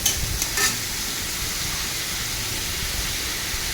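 Spices sauté with tomato and salt in a pan, a sizzling hiss broken by a few quick scraping stirs near the start before settling into a steady sizzle.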